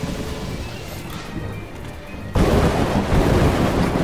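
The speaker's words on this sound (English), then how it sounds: "All this thunder" Thunder in the video game A Hat in Time: a low stormy rumble that breaks into a sudden loud, close crash about halfway through, then rolls on heavily. No one speaks.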